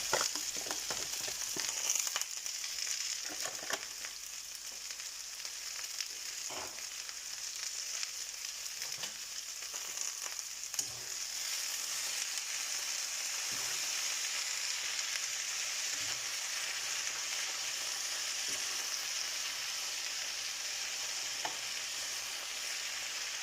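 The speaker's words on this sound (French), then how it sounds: "je vais laisser cuire jusqu'à ce que je vois que les courgettes sont devenues translucides" Zucchini and lardons fry in a pan with a steady, moderate sizzle that runs continuously, broken by faint stirring clicks and scrapes, with no voices.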